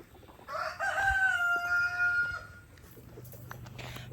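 A rooster crows once, close and clear, a drawn-out call lasting about two seconds, followed by quieter farmyard background.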